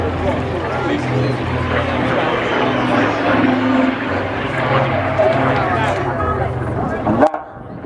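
A Spitfire flies over an English seaside air show, a loud, steady propeller-engine drone that fills the air with crowd babble and a commentator talking over it.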